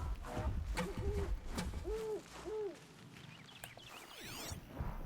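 Owls hooting in the video game Horizon Zero Dawn: a few soft, rising-falling hoots spaced apart at moderate distance over forest ambience, with footsteps and movement sounds early on.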